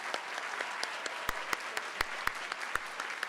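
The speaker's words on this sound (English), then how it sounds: "Let's give these 25 new inductees another round of applause." Audience applause for 25 newly inducted nursing honor society members at a university pinning ceremony: steady, moderately distant clapping with sharp individual claps standing out near the front.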